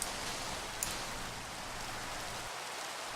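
Steady rain falls across a Minecraft world, a broad, even hiss of drops that holds constant and fairly quiet for a few seconds with no voices over it.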